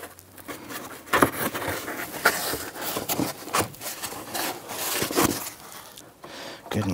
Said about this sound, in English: along the top here, there's gonna be a styrofoam insulator pad. Gonna work that up and off.